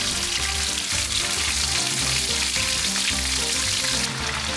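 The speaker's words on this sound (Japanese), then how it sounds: "先ほど余った油でこいつを揚げ焼きにしていく" Potato-starch-coated food shallow-fries in leftover oil, a loud dense continuous crackling sizzle that stays steady throughout with no talk.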